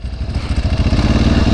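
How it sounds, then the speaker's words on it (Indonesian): A Ducati 749 V-twin sport bike revs hard close by, its loud, throbbing, lumpy exhaust pulses climbing steadily without any talk over it. "Dentuman V-twin, nggak ada obat, ditambah dry clutch dan desmodromic valve"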